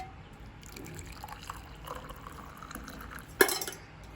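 Ajwain (carom seed) water, boiled, being poured and strained: quiet trickling and dripping liquid that ends in a sharp louder splash near the end.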